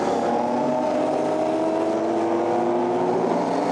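A GT4 race car at the Nurburgring struggles to restart, its engine giving a loud, continuous rough churning drone that holds steady without catching cleanly.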